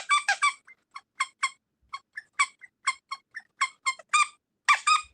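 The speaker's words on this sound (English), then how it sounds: "I squeak this thing and he comes usually" A squishy squeak toy squeezed repeatedly, producing a string of sharp, high, close squeaks in uneven rhythm, some in quick pairs, with no talking.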